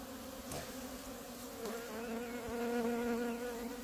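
Honeybees buzzing at an opened hive during a hive inspection, a dense continuous drone with shifting pitch from many bees, close and steady, a couple of individual bees passing near.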